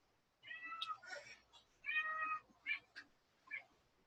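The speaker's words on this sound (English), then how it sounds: "My cat is coming to visit me." A house cat meows several times up close in a quiet indoor room, each call short and distinct with brief pauses between them.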